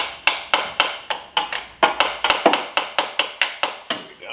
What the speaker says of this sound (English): I'm gonna grab the hammer just to tap the edge.